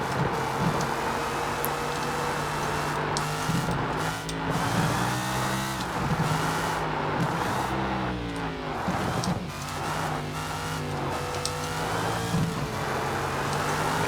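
A car engine roars continuously during a street race on Victoria Peak in the video game Sleeping Dogs, revving up and down through gear changes with tire and road noise, loud and close with no talk.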